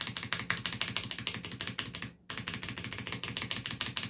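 Repeated spacebar presses on a Cherry MX Board 3.0S keyboard with black switches and a steel-wire stabilizer. The keystrokes are crisp and close, struck in an even, rapid rhythm with one brief pause midway.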